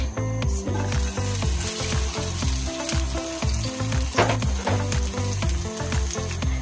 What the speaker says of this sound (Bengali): আমি তেল দিয়ে দিলাম, তারপরে দিয়ে দিলাম কিছুটা পেঁয়াজ